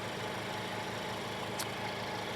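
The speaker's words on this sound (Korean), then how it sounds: "엔진이 많이 떨리고 있네요." Maserati Grecale GT inline four-cylinder engine idling with a noticeable shake, a steady low rumble and vibration heard up close in the open engine bay, with one brief high-pitched squeak partway through.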